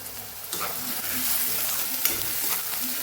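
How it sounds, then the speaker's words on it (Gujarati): Chopped onion and green garlic sautéing in a pan for a Kathiawadi green onion and sev curry, a close steady sizzle broken by a few stirring scrapes, with no voices. "અહીંયા આપણે લસણ લીલું લસણ જે લીધેલું એ પણ સાથે સાતડવામાં ઉમેરી દઈશું"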